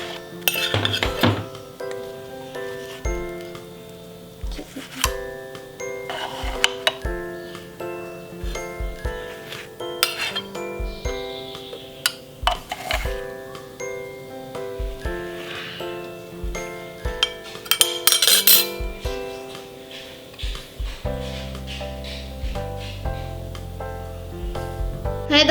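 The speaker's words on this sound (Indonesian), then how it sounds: "Kita taruh di piring." A toasted snack from a bread toaster is set onto a plate with cutlery: close ceramic clinks and metallic clatter ring out in scattered bursts over background music, with no talking.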